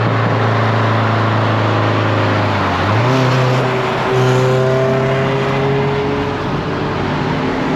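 A Nissan Silvia S14 with a five-speed swap drives on the road, its engine droning loudly and steadily from inside the car, pitch rising and shifting as it accelerates and changes gear.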